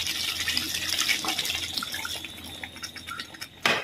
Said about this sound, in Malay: Okey, kemudian bolehlah kita masukkan sedikit air.